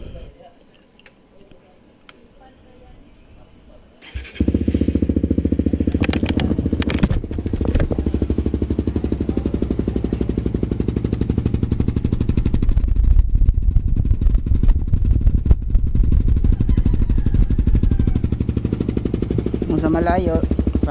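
A Suzuki GSX-S150 motorcycle with a loud kalkal aftermarket exhaust pipe fires up after a few seconds of quiet handling noise, then idles with a deep, steady, slightly uneven burble, close and loud, with a brief rev partway through.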